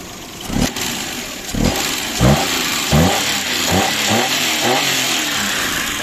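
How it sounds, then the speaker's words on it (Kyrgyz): A 2008 Daewoo Matiz car engine revs up several times in quick bursts, each rise in engine pitch followed by a fall back toward idle, loud and close with no voices. "Мотору чөткө иштейт экен."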